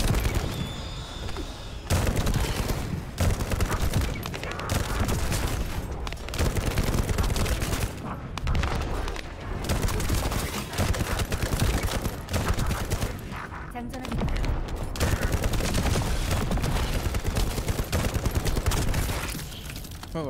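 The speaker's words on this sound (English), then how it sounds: "But at least now I upgraded my gun, so we can at least kill stuff a little quicker," Rapid, continuous gunfire from an upgraded gun in the shooter video game The First Descendant, loud dense bursts of shots filling the whole stretch with only brief pauses.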